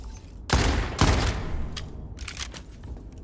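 Rifle shots from a DMR marksman weapon in the sci-fi shooter Starsiege Deadzone, two loud close blasts about half a second apart, followed by a few quicker, fainter shots near the end.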